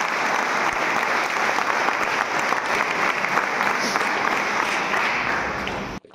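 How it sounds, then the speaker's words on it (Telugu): A crowd at a police training college gives a sustained round of applause, with dense, loud clapping that holds steady for several seconds and cuts off abruptly at the end. "సో దానికోసం ఒక round of applause for all of you."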